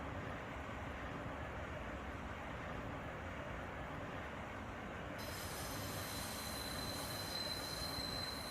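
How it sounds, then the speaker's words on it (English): A German RSSLO locomotive in the Train Sim Classic game runs with a constant rumbling roll, and a high wheel squeal sets in partway through, loud and unbroken. "this is the brand new RSSLO, latest German loco in Train Sim Classic"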